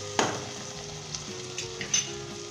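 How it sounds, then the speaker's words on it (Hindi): Onions sizzle and fry in a pot for a mutton kunna dish, a steady close crackle with a few soft stirring clinks, no voices. "आपने प्याज को ब्राउन नहीं करना, ना लाइट गोल्डन ब्राउन करना है, जस्ट आपने इसे हीट लगवानी है 1 से 2 मिनट।"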